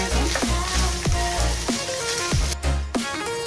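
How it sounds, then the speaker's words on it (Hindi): Boiled minced meat (kheema) gently frying in a pan gives a steady close sizzle, with the repeated scrape of a utensil stirring through it. "तो ये जो खीमा हमने बॉइल किया था वो इसमें हम डालेंगे, हल्का फ्राई कर लेंगे हम इसे।"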